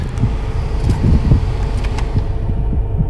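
A 2020 Isuzu MU-X 1.9 diesel SUV idles steadily up close, with a low, rough, throbbing rumble that stays constant throughout.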